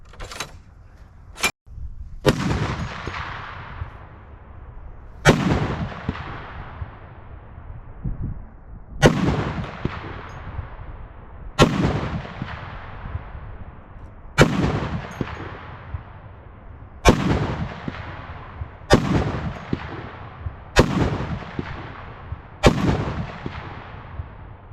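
Heavy .50 caliber rifle rounds slam into concrete one after another, about ten loud, sharp blasts spaced a few seconds apart, each ringing off with a metallic clang and rumbling tail; no voices between them.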